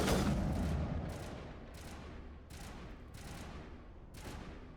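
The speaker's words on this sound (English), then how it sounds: "There's like a Geth sniper there, apparently." Geth sniper fire in the Mass Effect video game: a series of sharp, evenly spaced shots, about five reports with short decaying tails, moderately loud over a low rumbling background.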